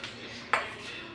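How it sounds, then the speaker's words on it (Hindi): Dishes and utensils clink together while being washed in a home kitchen, with one sharp metallic clink standing out over a steady hiss of running water. "बर्तन धोने अभी मुझको, ये बर्तन पड़े"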